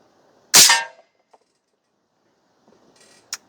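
A .22 Airforce Condor slug air rifle fitted with a Huben power regulator fires a single sharp, loud shot that decays quickly, followed by faint mechanical clicks and a brief metallic tick.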